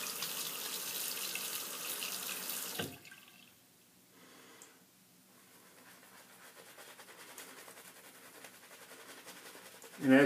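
Tap water runs into a sink while a face is wetted before a wet shave. A loud, steady rush lasts about three seconds, then cuts to near quiet, followed by softer flowing and trickling that builds again toward the end.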